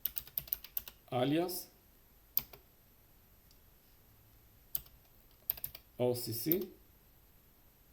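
Fingers type a command on a computer keyboard in rapid bursts of clicking keystrokes, sharp and close, broken up by short stretches of a person talking between the runs of keys.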